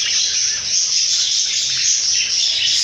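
Pairs of budgerigar parakeets, green and blue-and-white, chirp in a steady, dense high-pitched twittering that stays loud and continuous throughout with no pauses.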